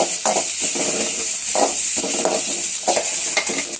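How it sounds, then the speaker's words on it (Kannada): Sambar ingredients being stirred in a hot pan over a medium flame give a steady bright sizzle, broken by rhythmic scraping strokes of the spoon every half second or so. "ಈಗ ಅದನ್ನ ಚೆನ್ನಾಗಿ ಆಡಿಸ್ತಾ ಇದ್ದೀನಿ, ಮೀಡಿಯಂ ಉರಿ ಇಟ್ಕೊಂಡು"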